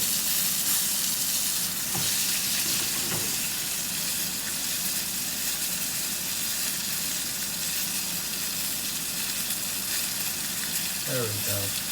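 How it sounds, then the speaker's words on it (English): Food sizzles steadily in a small camping saucepan, a soft constant frying hiss with faint clinks and stirring sounds near the end. "You can see how it sizzles."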